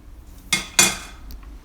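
Two sharp metallic clanks of a utensil against a pan as homemade Italian tomato sauce with olive oil, salt and fresh garlic is transferred, close and brief with quiet between.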